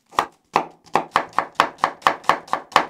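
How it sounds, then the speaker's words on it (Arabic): Knife chopping an onion finely on a cutting board, steady rhythmic blade knocks, about ten evenly spaced strikes, close and clear with no talking. "وعندي حبة بصل بدي أفرمها ناعمة"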